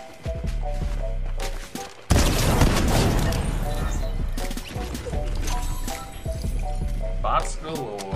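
A video-game gunfight erupts in a sudden loud burst of rapid gunshots and impacts over a low, steady game rumble, tapering into scattered shots.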